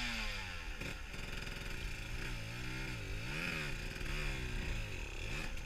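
A motorcycle engine runs close by with a steady, buzzing note that rises and falls through repeated small revs, continuous for the whole stretch with no voices.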